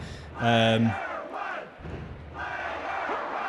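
In the WWF Warzone wrestling video game, an arena crowd roars and cheers, with a loud synthetic shout burst early on and a steady crowd din continuing behind it.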